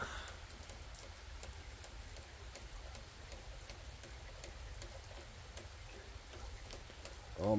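Steady patter of rain during a thunderstorm in Canada, with faint irregular drips ticking through it and a brief louder knock at the very end.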